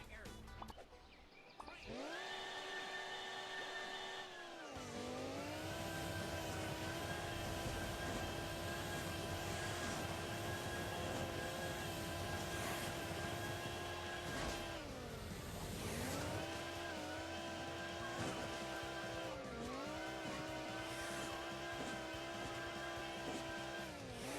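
A loud, sustained race car engine whine from the video game Hill Climb Racing 2, rising and dipping in pitch with gear changes and throttle, droning continuously for a long stretch.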